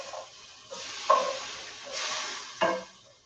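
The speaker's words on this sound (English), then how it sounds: "Yeah, and then I just scrape it off." A wooden spoon scrapes cooked pork residue off a hot pan amid faint sizzling, giving two sharp scraping strokes between softer stirring sounds.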